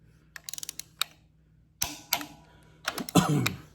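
A torque wrench tightens cylinder head bolts on a Case 830 tractor: a quick run of close ratcheting clicks, then a few sharp metallic clunks and scraping knocks, with no talking.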